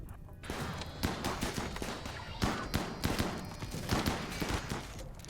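Rapid gunfire in the video game RimWorld crackles in dense, overlapping bursts, loud and continuous, with sharp shots piling on top of one another throughout.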